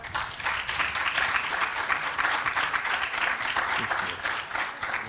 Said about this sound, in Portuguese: alvo de palmas por parte do público